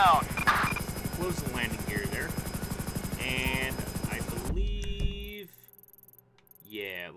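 Helicopter in GTA 5 on a Coast Guard patrol: a fast, steady rotor chop with loud engine drone fills most of the clip, with someone talking over it, then cuts out abruptly to quieter game sounds.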